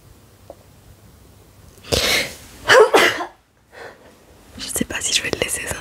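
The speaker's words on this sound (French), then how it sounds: "J'ai envie d'éternuer." A single sharp sneeze bursts out close by, preceded by a short breathy inhale and followed by soft whispery breathing.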